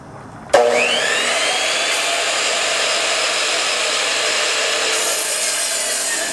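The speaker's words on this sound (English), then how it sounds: "now I'm going to cut this board into 6 different pieces" A saw cuts into a wooden board being made into pieces for a homemade grinding rail. It starts with a sharp onset, then gives a loud, steady, continuous cutting whine that runs several seconds with no talk.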